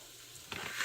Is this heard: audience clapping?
no